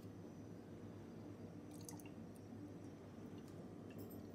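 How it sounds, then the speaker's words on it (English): Banana milk poured into a row of homemade boba tea drinks, a faint steady liquid trickle with a few soft drips, heard alone without talk. "now we're going to pour the delicious banana milk in"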